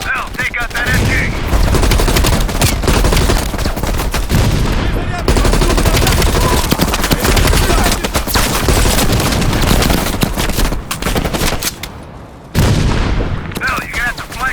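Sustained machine-gun fire and gunshots from a battle in Call of Duty: Cold War, loud and nearly continuous with dense bursts. A short drop in intensity comes near the end, and game voices can be heard.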